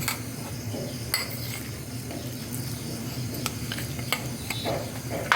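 Oil heating in a pan for a northern Thai chicken and winter melon curry, with a steady low sizzle and background hum plus occasional clinks of utensils against cookware.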